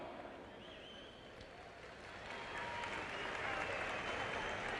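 A crowd at a boxing bout claps and cheers as the two fighters are introduced, with steady applause that swells louder in the second half and an announcer's voice faintly underneath.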